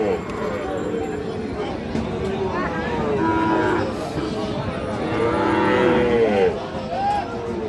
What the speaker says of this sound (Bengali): এই যে এখানে দেখেন কত সুন্দর একটি বাছুর গরু দেখতেছি আমরা